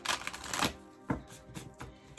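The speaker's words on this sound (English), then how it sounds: "while I shuffle a few times here" Tarot cards are shuffled in a few quick, soft riffling bursts, close and quiet, with no talk.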